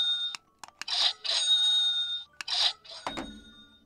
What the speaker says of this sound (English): It is time for the market bell.